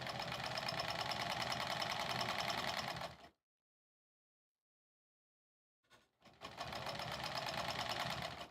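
A sewing machine runs steadily as it stitches a pillow cover for a Sleigh Ride embroidery project, whirring close and loud for about three seconds, falling silent, then starting up again and running to the end.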